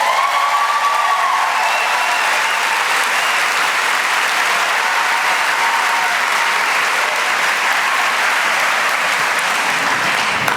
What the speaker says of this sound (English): They should clap, but then we should clap for them.